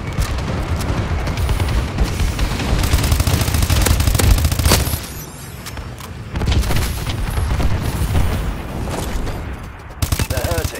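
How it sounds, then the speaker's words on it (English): Dense automatic gunfire and heavy booms from a friendly bombing run in Call of Duty: Advanced Warfare rattle on almost without pause. The roar briefly eases midway, then surges back at close range. "Friendly bombing run clearing the way."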